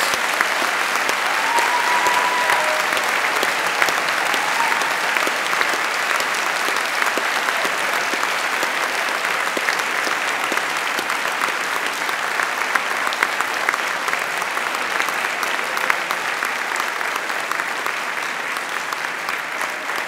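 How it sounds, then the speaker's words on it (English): Sustained, dense applause from a large audience at a university degree ceremony in London, rolling on evenly for twenty seconds without a break. "Come on, big round of applause, graduates."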